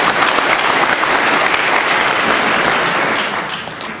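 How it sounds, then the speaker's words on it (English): A lecture audience at the University of Texas applauds steadily, a dense wash of many hands clapping that holds loud and even for about four seconds before easing slightly at the end. "go and give yourself a round of applause."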